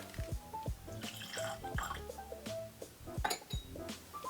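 Bowmore 18 year old whisky poured into a glass: a short trickle and drips of liquid with light glass clinks and knocks, quiet and close.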